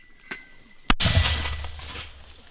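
A single sharp gunshot cracks out at the front line in Ukraine, followed by a rolling low rumble that fades over a second or two; a fainter pop comes just before.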